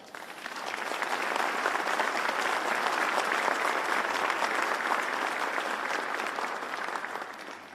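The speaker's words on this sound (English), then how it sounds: "Please give each other a round of applause" Sustained applause from the audience at a New York City ceremony honoring advocates of the 9/11 Victims Compensation Fund, many hands clapping steadily, swelling in and holding loud and dense throughout, with no talk over it.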